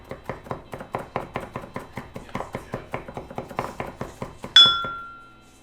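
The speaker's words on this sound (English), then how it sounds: "chopping some garlic." A knife chops garlic on a cutting board in a quick, steady run of about twenty close, crisp taps, followed by a ringing metallic clink.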